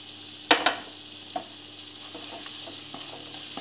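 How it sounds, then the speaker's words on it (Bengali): Spices for Bengali-style aloo dum sizzle and fry in a pan while a spoon stirs them, giving a few sharp scrapes and clinks over a steady soft hiss, close up with no voices. "ভালো করে মশলাটা ভেজে নিতে হবে।"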